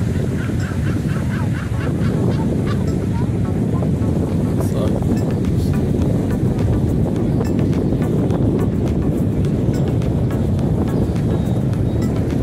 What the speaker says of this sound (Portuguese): o vento tá ventando bastante agora